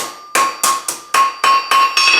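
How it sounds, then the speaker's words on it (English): Hammer blows on hot steel at the anvil while forging a key rack: eight sharp, ringing metallic strikes in a steady rhythm, each with a bright bell-like ring decaying before the next, close and loud with no talk. "we're going to hammer it down"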